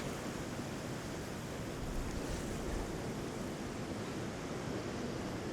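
Strong wind roars across an open disc golf course, a dense steady rush buffeting the microphone with no voices.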